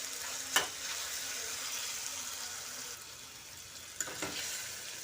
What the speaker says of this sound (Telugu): సొరకాయ ముక్కలు వేగిపోయాయండి.